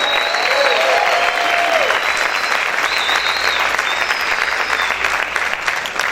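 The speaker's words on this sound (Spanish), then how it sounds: "¿Cuántos pueden gritar y aplaudir fuerte," Loud, sustained applause from a large crowd at a church praise service, steady and dense throughout, with a few cheers and whistles rising above the clapping.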